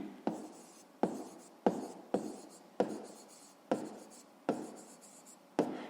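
Chalk or pen writing during a maths lesson: a series of about eight distinct strokes, each starting with a sharp tap and trailing into a scratchy rub, fairly quiet and close, no talk.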